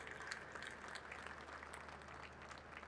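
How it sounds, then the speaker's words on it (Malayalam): Applause from an audience at a film workers' meeting welcoming new members, a steady even patter of many hands clapping, faint and distant throughout. "അവർക്ക് നല്ലൊരു കൈയടി കൊടുക്കാം."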